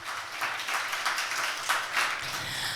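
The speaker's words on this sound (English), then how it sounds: "Please give him a big round of applause as well." Conference audience at a fashion industry sustainability panel clapping to welcome a speaker, a brief even patter of applause filling the room.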